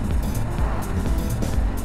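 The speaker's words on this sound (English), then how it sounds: "A little bit traffic." Road traffic heard from a BMW GSA motorcycle riding through rain in Thailand: a steady low engine and road drone with vehicles passing nearby, continuous and fairly loud.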